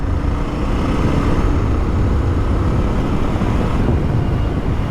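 A Ducati Scrambler motorcycle runs at full throttle in sixth gear at about 70, heard as a dense, steady engine drone heavily mixed with wind rush from riding.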